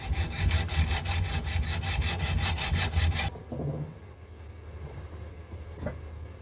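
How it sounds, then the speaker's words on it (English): Hand saw cutting through a starter push button where aluminium is pressed onto plastic, a rapid, steady rasping stroke rhythm up close for about three seconds, then stopping into quiet handling noises. "so I'll get a saw"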